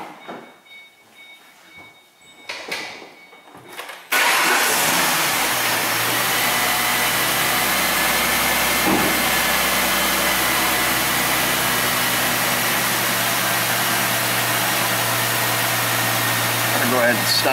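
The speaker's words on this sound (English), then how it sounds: "I'm going to start the car up." A car engine cranks and catches abruptly, then settles into a steady, loud, continuous idle with a low droning hum that runs unbroken to the end, after some quiet speech and handling noise beforehand.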